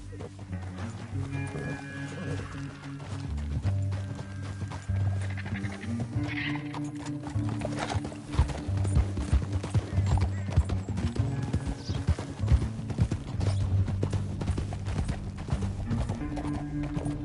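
Rhythmic clip-clop of galloping hooves with a horse snorting and whinnying in Red Dead Redemption 2, over steady game music and occasional voices.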